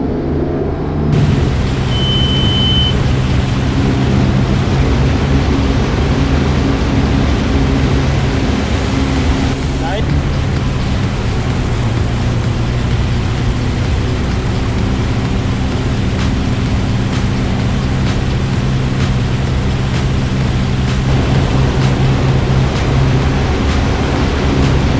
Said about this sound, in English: Put the boat in gear and take off.